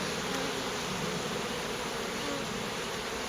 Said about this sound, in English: I'd also like to get a little snap of the front of this hive. It is so active.